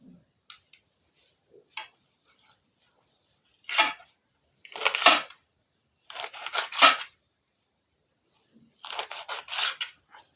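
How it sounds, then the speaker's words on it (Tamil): Several crisp snipping cuts through mudakathan plant stems in short clusters, with quiet gaps between, close by and with no talking. "நறுக்கிறோம் பாருங்கள்."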